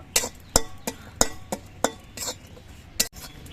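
Green chillies dry-roasted in a dry wok, the spatula scraping and clinking against the metal pan in sharp, irregular strokes about every half second, close and clear, with no voice.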